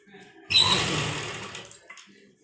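A sewing machine runs a line of stitches over a folded piping strip on a kurta, starting abruptly with a steady whirring hum that continues for about a second and a half before tapering off, close and fairly loud.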